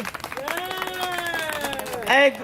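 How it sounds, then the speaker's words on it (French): Crowd clapping at a rally opposing electroshock treatment, with sustained voices calling out and cheering over the patter, then a brief louder shout near the end. "Bravo, on les applaudit."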